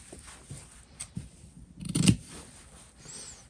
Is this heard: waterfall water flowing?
no